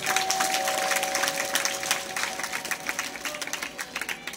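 Audience applause at a Marathi devotional katha performance, a steady dense patter of many hands clapping throughout, fairly close, with a faint sustained tone underneath.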